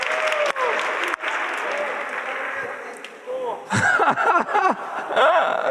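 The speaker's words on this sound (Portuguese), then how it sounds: "Vamos dar uma salva de palmas para o Charlão e para o Elias." A church congregation gives sustained clapping that swells, dips briefly, then rises again, with voices and light laughter mixed in.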